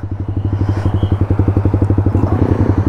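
A BMW S1000RR superbike passes close by with a loud, steady, rapidly pulsing engine note whose rhythmic firing throb stays strong throughout, heard nearby on the road.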